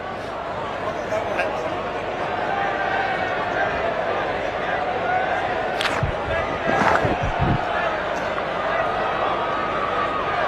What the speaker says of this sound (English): the crowd are loving it, and so am I